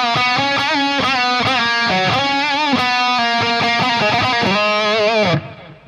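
Distorted electric guitar plays a solo passage, with bending, sustained notes in a steady phrase, loud and up front throughout before cutting off at the end; no talking.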